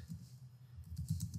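Typing on a computer keyboard, with a short run of quick, soft key clicks up close, fairly faint and without talk.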